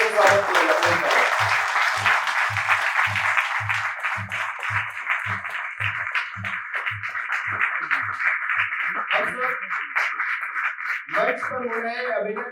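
A theatre festival audience gives a stage performance a big round of applause, clapping in a strong, regular rhythm that fades into looser clapping, with voices emerging near the end.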